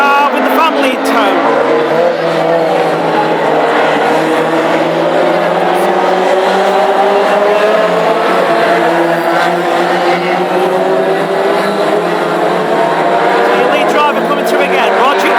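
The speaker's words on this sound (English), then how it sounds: "And then comes 198 Andy Donut Stewart, who hasn't felt entirely satisfied with the speed out of his Pinto engine today." Hot rod race cars with Pinto engines racing at Hednesford, engines roaring and revving loudly and continuously as the cars circulate, with a commentator talking over the noise.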